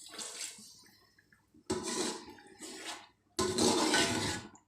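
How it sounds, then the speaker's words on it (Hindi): Water splashes into a cooking pot of potatoes and meat in three separate pours, each a loud gushing burst with short gaps between, no talking. "थोड़ा सा पानी डाल देंगे।"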